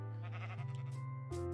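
Sheep in a Minecraft-style video game bleat with wavering, nasal cries, two or three calls in quick succession, close and clear with no talk over them.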